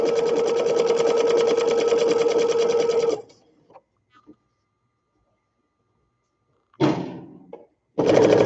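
A domestic sewing machine runs at full speed under a floored foot pedal while stitching a baby sunsuit, a loud steady whir that stops abruptly, leaves a few small clicks and handling taps in silence, then starts again in short bursts.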